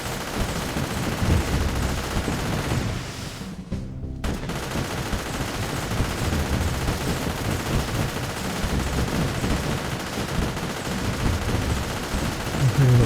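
Flame blaster towers fire continuously in the M.A.C.E. Tower Defense video game, a loud, dense, crackling barrage of rapid blasts that runs for the whole stretch and breaks off only briefly near the middle.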